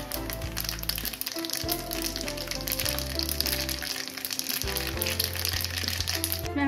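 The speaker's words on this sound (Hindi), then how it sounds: "तेल हमारा गरम हो चुका है। अब हम इसमें डालेंगे राई।" Mustard seeds and asafoetida sizzle in hot oil with a steady, dense crackle and spatter, close and continuous, under background music.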